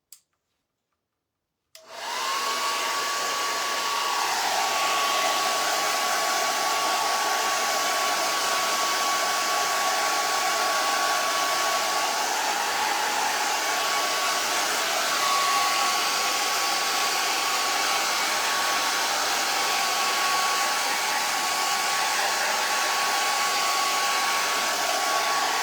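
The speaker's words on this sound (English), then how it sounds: "I am gonna get my dryer out for just a minute so we can get this, just touch this quick and get it a little dry" A hair dryer blows warm air to dry paint on a reindeer painting, starting abruptly after a brief silence and then running as a loud, steady whir with a constant tone for over twenty seconds.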